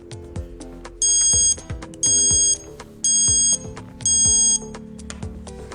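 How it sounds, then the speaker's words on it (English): A Charger Leash alarm beeps in four evenly spaced, loud electronic bursts about once a second, with softer chiming tones and music playing between the beeps. "It's preset to ring as soon as you unplug your device."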